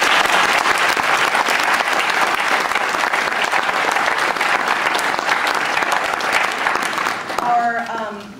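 An audience claps loudly and steadily for student duets, a dense sustained round of applause that fades near the end as a voice begins to speak.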